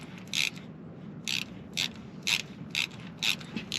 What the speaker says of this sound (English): you got to put a ratchet and extension in there